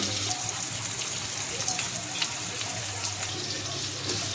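Water pours steadily from a tap over cut vegetables such as cauliflower, carrot, beetroot, potato, beans and peas, a loud, continuous splashing rush close by.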